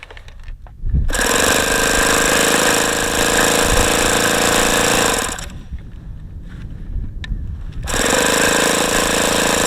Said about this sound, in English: I was hoping to have more of an engine run than this